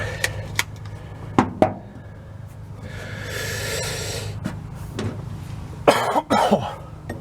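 A man working on a vehicle's intake and exhaust manifolds coughs and sniffles several times, sharp close bursts scattered over a low engine-bay hum with a breathy hiss in the middle.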